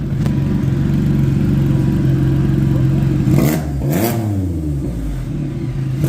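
A new Can-Am motorcycle engine idles loudly up close with a steady hum, then revs up briefly in a rising and falling whir before settling back to idle.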